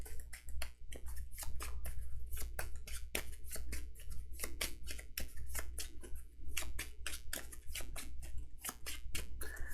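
Deck of game cards for a tabletop ranger campaign being shuffled close up, a steady rapid flutter of clicks and riffles running throughout over a low background rumble.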